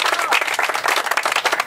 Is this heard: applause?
yes